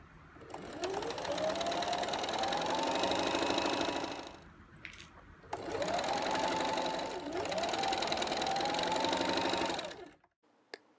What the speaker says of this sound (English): We'll start sewing from the 3-inch stitching line all the way to the corner.